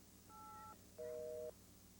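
Touch-tone telephone keys being dialed, two distinct steady DTMF tones in sequence, the second louder, clear against a quiet background.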